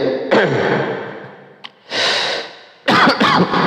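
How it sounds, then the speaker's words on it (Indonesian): A few harsh coughs in bursts, close and loud, with a short pause between the fits and a brief sharp sound in the middle. "Nah batuk lah ini"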